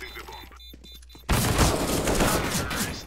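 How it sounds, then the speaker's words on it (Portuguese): Rapid Counter-Strike gunfire erupts after a quieter stretch of faint game sounds and tapping, then a dense, loud burst of shots continues to the end. "Ele me atirando"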